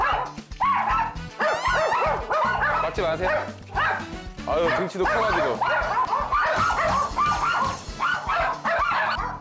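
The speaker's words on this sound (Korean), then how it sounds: "짖는 이유가 다 달라" Several dogs in a home bark, yip and whine excitedly at a visitor, a nonstop overlapping chorus close by with people talking over the din.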